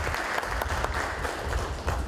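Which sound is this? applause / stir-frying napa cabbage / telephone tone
applause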